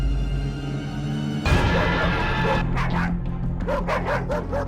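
Several loose, aggressive dogs bark close and loud, with a burst of deep barking followed by a rapid run of sharp, repeated yips and barks.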